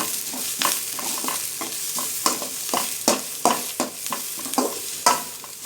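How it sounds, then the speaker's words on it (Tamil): Golden onions frying with curry leaves in a pan for chickpea curry, stirred with a spoon in repeated sharp scrapes and clacks over a low sizzle, close and alone. "ஒரு கிளறி விடுங்க"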